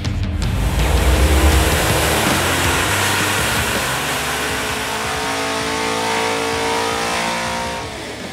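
A V8 LSX engine fitted with FAST street-length intake runners roars steadily on a dyno, loud and close, holding a sustained high-rev pull for several seconds before easing slightly at the end.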